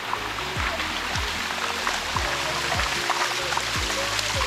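Water streams steadily down the Sticky Waterfall in Thailand, a continuous close, even rush with faint splashes and trickles and no voices.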